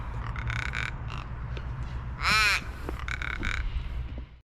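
A crow in the Australian outback gives a single loud, harsh caw close by, rising out of steady background noise with faint chirps around it.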